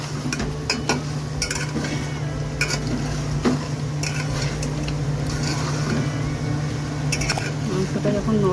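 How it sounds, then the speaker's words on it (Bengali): Mutton sautés in a handi pot while a spoon stirs and scrapes, giving repeated clinks and clatters over a steady hum and dense cooking noise, with low talk in the background. "এই দেখো মাংসটা কষছে, এখনও কষা হয়নি, কষছে মাংসটা"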